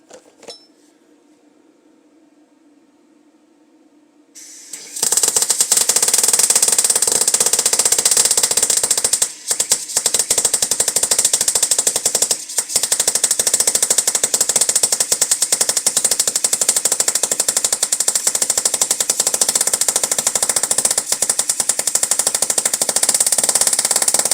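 An Andeli MIG 160 welder laying a bead at 120 amps, starting after a few quiet seconds as a loud, close, continuous crackling sizzle that holds steady with brief dips.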